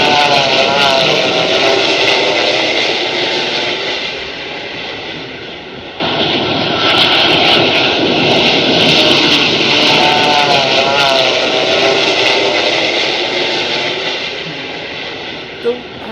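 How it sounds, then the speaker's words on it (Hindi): A jet airliner on landing, its engines giving a loud, continuous broadband roar with a steady high whine, dipping briefly in the middle and then surging back at full strength. "इसी तरह से एक और विमान लैंड हुआ था, उसमें भी सेम आवाज थी।"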